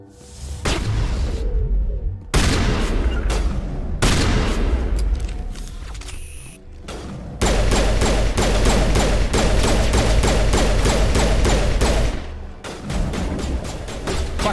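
Rapid bursts of gunfire in the video game Mass Effect, including pistol shots, with dense repeated cracks and booms in loud sustained volleys broken by short pauses.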